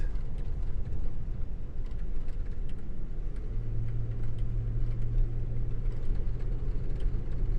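Hillman Minx car driving on a road in Kentucky, a steady low engine and road rumble throughout, with a faint low drone joining partway as it picks up speed; no talking.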